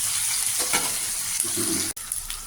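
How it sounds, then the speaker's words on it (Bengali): Chopped onions fry in a pan with a close, crackling sizzle, broken by a few stirring scrapes and a brief drop near the end before the frying resumes. "আমার পেঁয়াজগুলো দেখো কিরম ভাজা হয়ে গেছে।"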